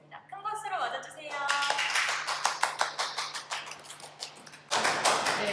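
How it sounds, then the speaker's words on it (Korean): Studio audience clapping to welcome a playwright guest onto a Korean talk show, a burst of applause building and continuing through, with a speaking voice at the start. "큰 박수로 맞아주세요."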